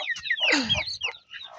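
Chickens clucking at a home poultry farm, a busy run of close, loud clucks and squawks from several birds with no talk.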